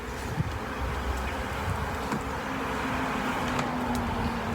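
Swarm of honeybees flying around an open hive while being moved into a new box, a steady insect buzz filling the outdoor air at moderate level with no talk.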